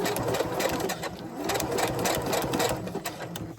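Sewing machine runs a short lock stitch on a kite arch, a continuous close mechanical whir with a fast regular needle ticking, steady and alone without voices.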